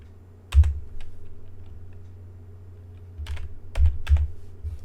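Quick bursts of computer keyboard typing, entering coordinates during Rhino 3D modelling work, with clusters of crisp key clicks separated by pauses, close and clear with no talking.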